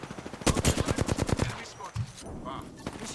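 A rapid burst of automatic gunfire in the video game Apex Legends, a loud rhythmic string of shots that fades into scattered quieter game noise.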